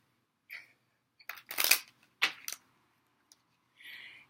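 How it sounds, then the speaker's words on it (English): A deck of cards is shuffled by hand, giving a few short, close riffling and snapping bursts separated by quiet gaps. "So we're going to shuffle 3 times."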